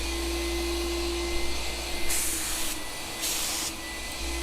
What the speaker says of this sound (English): here the primer is going on to seal in the wood